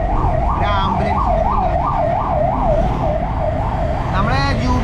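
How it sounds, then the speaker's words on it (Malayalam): An ambulance siren wails loudly and steadily in a repeating up-and-down cycle as it passes near a bike shop, dominating the scene with a faint voice or two underneath. "അപ്പോൾ ഇടയ്ക്കിടയ്ക്ക് ഒരു ആംബുലൻസ് പോകും"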